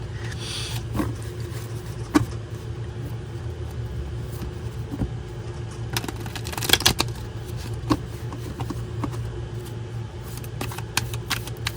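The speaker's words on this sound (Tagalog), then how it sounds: "balasahin lang natin mabuti" A deck of cards shuffled repeatedly, with scattered soft riffles and light snaps over a steady low background rumble like a passing car, fairly quiet and continuous throughout.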